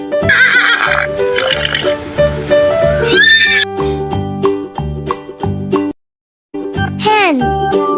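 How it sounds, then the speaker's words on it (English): A horse neighs in a shrill, wavering whinny near the end, set against a bouncy children's music track with light jingles and a brief silent gap. "Horse."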